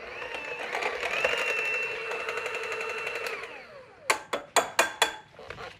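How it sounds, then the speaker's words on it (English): Cheese filling with a tablespoon of flour is mixed in a stand mixer for a Danish pastry, a steady motor whir for about four seconds, then several sharp taps and knocks as the mixer stops. "just mix that all together"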